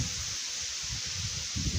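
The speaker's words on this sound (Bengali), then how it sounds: "প্রচণ্ড পরিমাণে ঝড় হইতেছে, বাতাসে মনে হয় আমি উড়ে যাইতেছি" Strong stormy wind buffets outdoors, a constant broad hiss with low gusty rumbles and rustling that swell and fade across the moment, fairly loud and with no voices.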